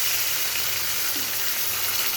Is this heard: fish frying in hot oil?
yes